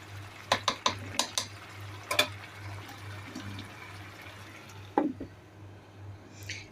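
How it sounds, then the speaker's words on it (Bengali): Bottle gourd and chicken are stirred in a pot: a few sharp clinks and scrapes of a utensil against the metal, in quick bursts and then a pause, over a steady low kitchen hum with no talk. "তো আমি লাউগুলা দিয়ে একটু নেড়ে চেড়ে মিশিয়ে দিচ্ছি।"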